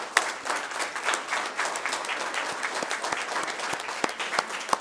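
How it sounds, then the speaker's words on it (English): An audience at a school district board meeting applauds steadily, many hands clapping in a dense, even patter that carries on without a break. "have a big applause for these winners"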